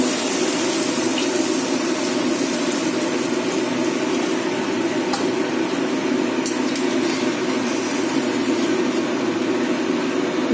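Broth is poured into a pan of pabda fish curry cooked with poppy seed paste, making a steady, continuous liquid rush that stays even and close throughout, with no talking.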